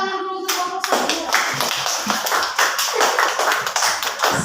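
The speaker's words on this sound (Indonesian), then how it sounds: "Tepuk tangan dulu untuk kelompok 1." Classroom applause for a student group, a brisk burst of many hands clapping close by, starting abruptly after a brief tone and continuing energetically to the end.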